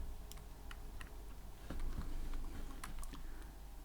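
Quiet keystrokes on a computer keyboard while coding a Tkinter color chooser in Python, scattered soft clicks in an irregular rhythm over low room hum, with no voice.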